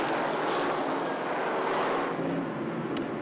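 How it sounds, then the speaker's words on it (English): Race car engines rumble and rev at Sauble Speedway, a broad roar heard from a distance with a short higher whine near the end. "You can hear the drivers revving up their engine."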